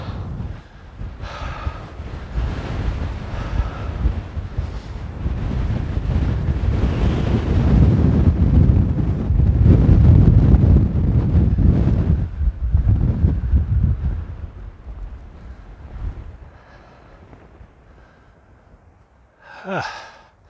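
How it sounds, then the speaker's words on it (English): Strong coastal wind on a clifftop path roars and buffets the microphone, building to a heavy rumbling peak midway, then easing off into quieter gusts. "Super windy, so I'm just going to let it roar while I pan."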